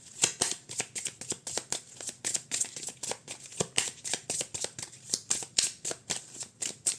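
Tarot cards are shuffled and drawn for a reading: rapid, rhythmic riffling and snapping of the deck, close and crisp, repeating in quick bursts with no voices.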